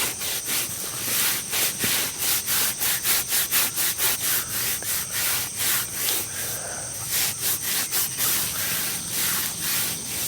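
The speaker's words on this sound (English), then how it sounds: "I have a little sock over my hand here and I'm just going to rub up and down" A sock-covered hand rubs up and down a fruit tree's trunk bark in a steady, close, rhythmic scratching, with strokes coming in quick regular pulses.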